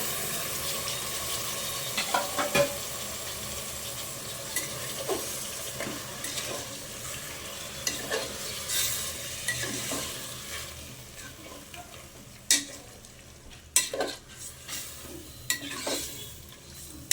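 Marinated chicken frying in a pan for chicken pulao, with a steady sizzle broken by repeated scraping stirs and occasional sharp clinks, close up, growing sparser and more clattery toward the end.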